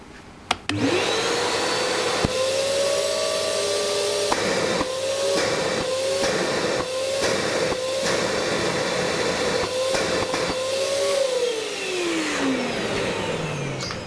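Shop vac vacuum cleaner starts with a click and runs loud and steady, a whining motor hum with airflow hiss that dips briefly several times as the nozzle is covered and uncovered, then winds down.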